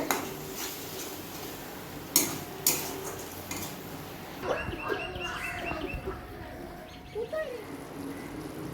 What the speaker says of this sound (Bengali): এবার আমি ভালো করে ভেজে নেব তেলটা যতক্ষণ না উপরে উঠে আসছে